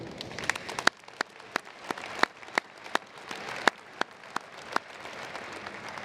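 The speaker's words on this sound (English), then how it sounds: "let's give one final round of applause to thank your family, friends, faculty, and university staff" Applause from the crowd at a fall business college graduation recognition ceremony: a dense burst of clapping thins out after a second into scattered, sharp individual claps spaced irregularly, moderately distant in a large room.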